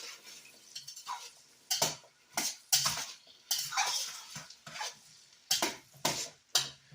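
Onions and garlic being stirred in a hot pan for beef stew, close utensil scrapes and clinks coming in irregular bursts with short quiet gaps between.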